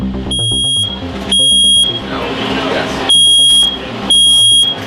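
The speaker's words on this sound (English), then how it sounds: "Something faulty within the washing machine has set off the alarm system." A building fire alarm, set off by a faulty washing machine in an apartment, sounds in loud repeating piercing beeps inside the building, with people talking and bustling underneath.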